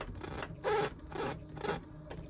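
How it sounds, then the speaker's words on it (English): An inkjet-style printer feeding clear sticker paper whirs and clicks in three rhythmic mechanical passes, each a short ratcheting burst separated by quieter gaps, close and moderately loud with no speech. "while the clear sticker paper is printing out"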